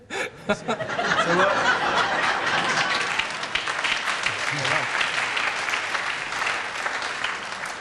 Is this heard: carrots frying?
no